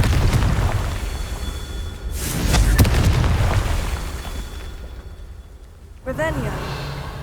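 A Confringo explosion spell in Hogwarts Legacy, a deep booming blast in the middle with rumbling aftermath amid ongoing game noise, and a voice speaking briefly near the end.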